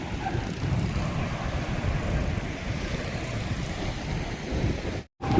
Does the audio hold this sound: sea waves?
yes